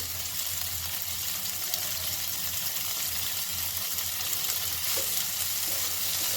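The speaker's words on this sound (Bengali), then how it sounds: "পেঁয়াজটা একটু নাড়াচাড়া করে এবার দিয়ে দিচ্ছি টমেটোটা দিয়েও সামান্য একটু নাড়াচাড়া করব।" Chopped onion and tomato stir-fried in a pan for egg bati chochchori, a steady close sizzle with faint scraping under it and no voices.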